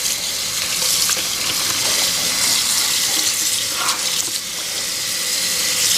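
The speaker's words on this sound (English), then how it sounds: "You put it in water so they don't stick together." Cooked lasagna noodles are rinsed under running water in a drainer, giving a steady, loud hiss and splash that lasts throughout with no talking.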